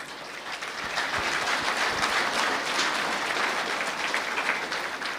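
A church congregation applauds loudly and steadily, a dense wash of clapping from many hands that sustains evenly throughout without speech over it.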